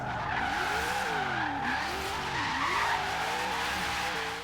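An 800 HP Ford Falcon drifts in the Forza Horizon 3 racing game, its tires squealing in a continuous, wavering screech over the engine's loud drone.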